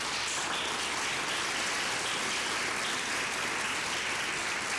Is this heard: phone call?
no